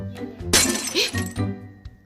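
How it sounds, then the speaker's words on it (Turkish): Something breaks in a kitchen, a sudden bright crash of shattering glass followed by a few smaller clinks, loud and close, with low hum beneath. "Bir şey kırıldı anneciğim mutfakta."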